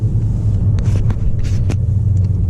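A loud, steady low-pitched rumble and droning hum from a Ford XLT pickup on Toyo RT tires at 35 mph, with a few faint rattles and ticks over the top.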